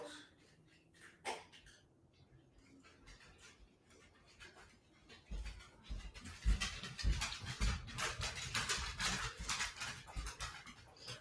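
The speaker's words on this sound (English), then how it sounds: "My dogs are following me." Dogs pant close by, starting softly and growing heavier and louder, with occasional sniffs and snorts and no talking.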